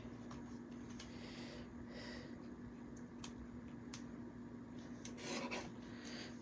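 A paper trimmer slicing craft paper for a Halloween project, a faint, continuous rasping scrape with a few sharper ticks, close and alone.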